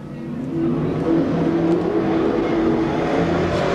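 Race cars at Seekonk Speedway roar off the start together, a loud, sustained engine drone of many cars rising and holding steady.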